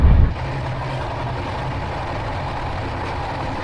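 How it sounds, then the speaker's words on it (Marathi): Jan Shatabdi Express train running at top speed on a monsoon journey through Konkan, heard from inside as a steady low rumble and drone after a brief heavier thump at the start. "आता जनशताब्दी एक्सप्रेस आपल्या सर्वाधिक वेगाने धावत असावे"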